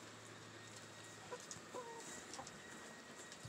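Chickens clucking at a backyard coop in the morning, a few soft, scattered clucks and calls over a quiet, hissy background.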